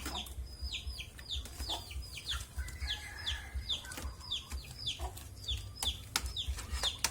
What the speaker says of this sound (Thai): เสียงไก่แล้ว